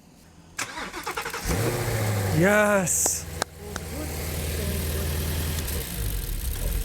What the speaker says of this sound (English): Okay, so this is truly the first start then.